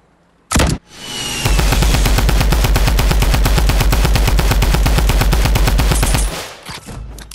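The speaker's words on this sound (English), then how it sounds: "he won't stop shooting at me with a scoped AR." Scoped AR rifle fire in a video game, one loud shot, then a sustained rapid automatic burst of dense, evenly spaced gunshots lasting about five seconds before stopping, close and dominant.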